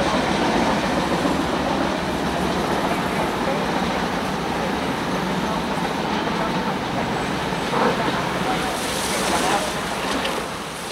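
An Amtrak passenger train of about nine cars passes close by at a South Florida trackside station, a loud continuous rumbling roar of wheels on rail that holds steady for several seconds before beginning to fade.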